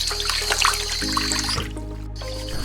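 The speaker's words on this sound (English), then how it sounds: "Rinse in cold water." Raw pork being rinsed under cold running tap water in a home kitchen, a steady trickle and splash that continues throughout with a faint hum underneath.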